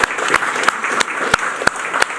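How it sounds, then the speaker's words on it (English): A loud, close audience applauds at the end of an evening event, with a continuous roar of clapping and sharp, regularly spaced accented claps standing out above it. "So give a big round of applause to the guys behind you."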